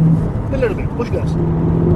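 Car engine revved as the gas pedal is pushed, a steady low drone with rising pitch sweeps, mixed with people talking over it throughout.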